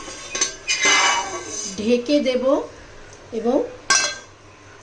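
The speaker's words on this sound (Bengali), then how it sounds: "এবারে এটা আমি ঢেকে দেব" A metal lid clatters onto a cooking pot with a few sharp clinks and a scraping rattle, close by, while someone speaks briefly between the metallic knocks.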